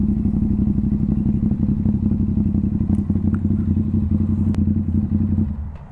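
A Ducati Hypermotard 950 SP motorcycle with a tuned exhaust and ECU rumbling on the road, a loud, close, throbbing low-pitched engine note that eases off at the end.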